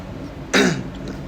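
A single short, harsh cough or throat-clearing rasp erupts once, close and loud, against a steady low background.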